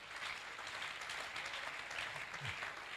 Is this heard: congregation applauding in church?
yes